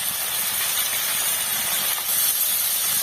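Potatoes with ginger, turmeric and salt frying in a pan give a steady, loud sizzling hiss that runs continuously and close by, with no talk.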